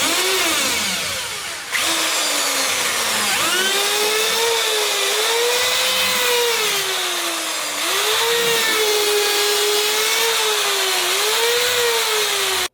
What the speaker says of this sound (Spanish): Hemos cortado un poquito el Silent Block, lo hemos taladrado por el lateral para quitar un poco de fuerza